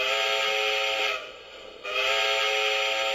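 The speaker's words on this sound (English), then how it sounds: "That's a classic whistle." A model steam locomotive sounds its whistle in two sustained, loud steam-style blasts split by a brief dip, close and clear with no voices.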